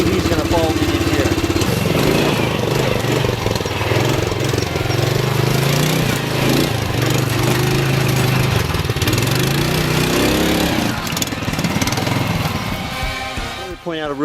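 A ROKON motorcycle engine drones steadily as it rides through dense brush, its low buzzing pitch rising and falling with the throttle, loud and close, with rustling throughout and no talking.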